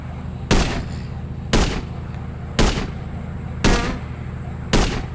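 Sniper rifle shots in the mobile game Indian Bike Driving 3D, fired at zombies: five sharp, loud bangs spaced about a second apart, each followed by a brief decay over a low steady background.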